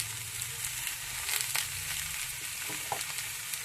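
Vegetables and ground spices such as coriander and cumin sizzle steadily in a pan while being stirred, with soft scraping and occasional clinks of a utensil over a continuous frying hiss.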